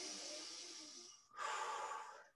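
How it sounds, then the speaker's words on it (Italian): A person exercising during a glutes and legs workout takes a deep breath, a soft inhale followed by a slightly louder exhale, close and quiet with no talking. "un respiro profondo"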